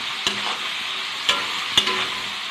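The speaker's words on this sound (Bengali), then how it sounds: "এবার পেঁয়াজটাকে লাল লাল করে ভেজে নেব।" Onions sizzle steadily in a hot pan with oil and a spoonful of sugar, a bright close hiss broken by three sharp clinks of a spoon stirring.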